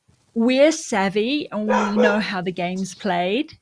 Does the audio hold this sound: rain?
no